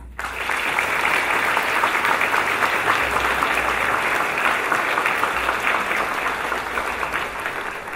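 An indoor audience at a commemorative celebration claps in sustained, even applause that starts abruptly and holds at a steady level for several seconds.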